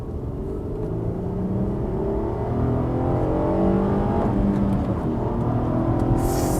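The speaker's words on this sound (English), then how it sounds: "2nd gear pull." A manual Acura TL SH-AWD sedan (4th generation) accelerates hard in second gear, its engine note a steady, loud rising drone with road and wind rush throughout, heard from inside the car.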